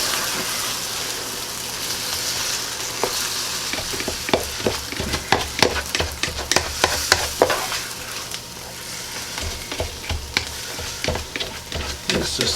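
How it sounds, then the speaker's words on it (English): Beaten eggs scrambling in a hot pan for Spam breakfast fajitas, a constant sizzle with a rapid series of spatula scrapes and taps against the pan, close and fairly loud, without speech. "pour it in here and let it cook. Give it a good scramble here."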